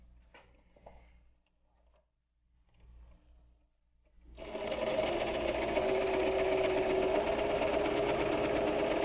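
Sewing machine stitching the side seam of a fabric pencil case, starting after a few seconds of quiet handling noises and then running as a steady, continuous whir to the end.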